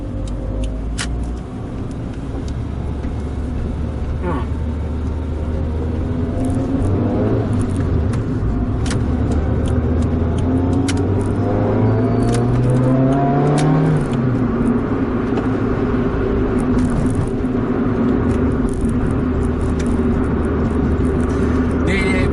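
A Toyota 4A-FE twin-cam car engine in an AE111 Levin runs steadily close by, a continuous loud hum and rumble with a rising whine as it revs partway through.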